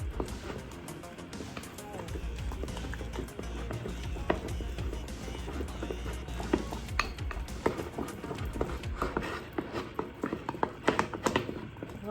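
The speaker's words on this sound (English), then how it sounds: "just mix that till you're all incorporated and that butter is all incorporated" Butter being mixed into Brazil bars batter in a bowl, with a steady run of small scraping and tapping knocks from stirring over a low background rumble.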